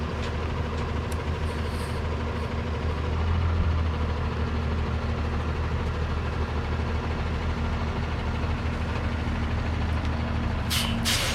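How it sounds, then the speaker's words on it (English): A skid steer and a delivery truck pulling up at a home flagstone walkway project: a steady low diesel engine rumble with idling drone, a brief hiss of air brakes near the end, moderately distant. "the folks with the skid steer pull up"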